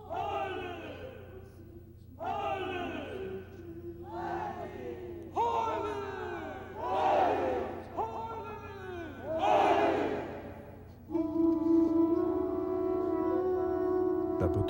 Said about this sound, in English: All together, let us shout, Hai, or happiness.